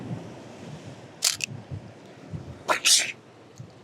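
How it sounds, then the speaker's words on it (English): A film camera shutter fires twice, the second a quick double click, crisp and close over a low background murmur of wind and waves. "But if you hear this shutter,"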